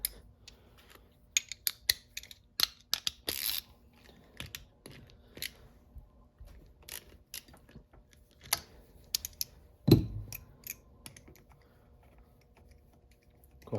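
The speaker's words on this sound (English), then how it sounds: "Now it looks like we're going to have to take this bolt out, which is probably 11 or a 12 millimeter." Ratcheting wrench clicks and small metallic ticks while a 12 millimeter bolt is removed from a Yamaha Viper 700 snowmobile during water pump work, irregular close clicks with a louder clunk near the end.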